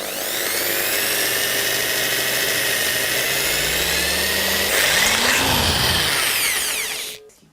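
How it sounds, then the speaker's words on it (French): A power drill turns slowly as it bores into metal, giving a steady, loud whine with a droning hum that shifts pitch partway through before cutting off at the end, with no talking. "Pour percer le métal, on doit toujours avoir une vitesse de rotation lente pour la perceuse."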